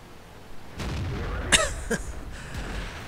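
A shell strikes a tank in a tank battle game, fired from an A-44, landing as a short sharp boom with a crack and rumble, followed by a second smaller pop against a steady engine-like background.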